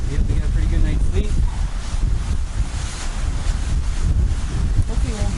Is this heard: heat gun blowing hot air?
no